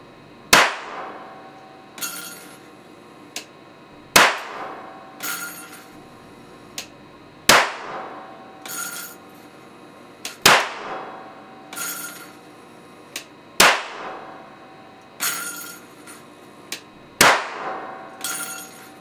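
Old electrolytic capacitors on circuit boards blasted by a capacitor bank discharge: a series of about a dozen sharp, loud cracking bangs at irregular intervals, each with a short metallic ringing tail.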